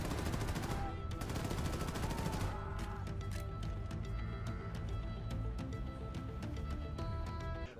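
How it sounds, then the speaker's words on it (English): Rapid gunfire from an Xbox shooter game where the player dual wields two guns while running, with dense bursts and shots that stay loud throughout. "You're just running through, just gunning and running, and you get to dual wield two different guns"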